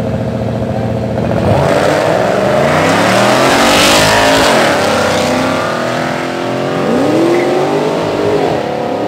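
Nissan Skyline R35 GT-Rs street racing in Los Angeles, engines revving hard and rising through sweeping accelerations, loud and close, with pitch climbing and dropping across repeated gear pulls.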